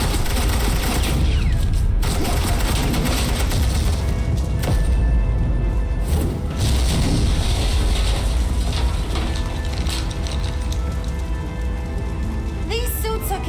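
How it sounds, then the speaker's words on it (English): Loud, dense suppressing gunfire from the Batman Telltale video game rattles almost without pause, layered with mechanical clatter and a busy, noisy backdrop. "suppressing fire."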